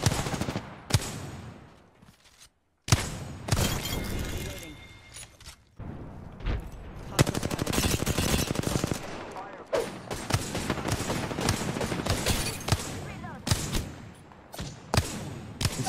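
Peacekeeper shotgun blasts from Apex Legends gameplay ring out as loud, sharp bursts in quick succession, mixed with other dense game effects and occasional voices.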